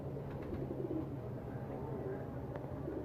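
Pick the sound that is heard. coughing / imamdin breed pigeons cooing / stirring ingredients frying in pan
imamdin breed pigeons cooing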